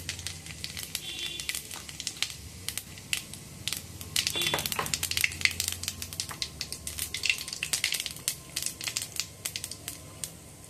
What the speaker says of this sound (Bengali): তেলের মধ্যে জিরে ফোড়ন দিলাম